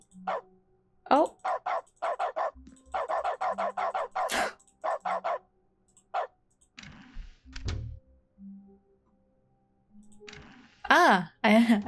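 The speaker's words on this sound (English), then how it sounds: "Oh, puppy." A dog barks in The Stanley Parable video game, with a few sharp barks clustered near the end. Earlier there is a steady run of clicking bursts and some quieter sounds.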